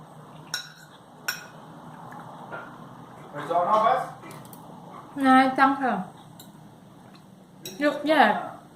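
Food is stirred in a frying pan with a utensil, producing scattered clinks and scrapes that come and go, close by, while people talk over it.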